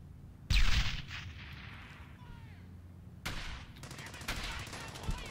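A grenade blast in the World War II shooter Brothers In Arms lands as a loud, sharp boom with a rolling tail, followed by further thuds and crackling gunfire against a low battle rumble.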